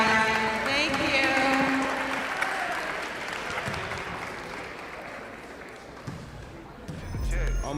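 A gym audience at a girls' basketball tournament claps for the winning players, a broad burst of applause that swells early and slowly fades over several seconds, with crowd chatter and a few thumps near the end.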